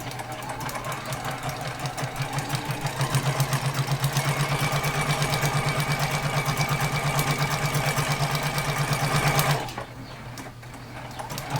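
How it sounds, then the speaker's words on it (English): A sewing machine runs a quilt seam in one steady, fast rhythmic burst of close, loud stitching lasting several seconds, then stops abruptly, leaving quieter handling noise. "And we're going to sew that seam."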